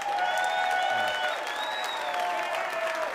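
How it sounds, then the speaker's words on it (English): An audience applauds a Vietnam veteran at a comedy club, with steady clapping and light crowd noise running throughout at even volume. "Give this guy a nice round of applause."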